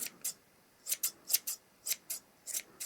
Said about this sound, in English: Fluff up your pom-pom. There you go. I always give it a little trim.